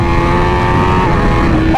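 Motorcycle fitted with a titanium exhaust accelerating hard, a loud, close, continuous engine roar with steady harmonic tones rising slightly in pitch before shifting near the end, with no talking over it.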